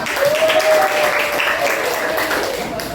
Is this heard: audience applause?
yes